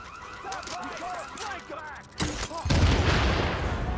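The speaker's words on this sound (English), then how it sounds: "That was the sticky bomb, yo!" A sticky bomb explodes in The Division, a sudden loud blast and crackling burst that follows rapid gunfire and other game sounds, with excited voices shouting over it.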